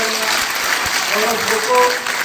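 Audience clapping at a public meeting held with officials and police, a steady wash of applause from many hands, fairly loud, with voices mixed in.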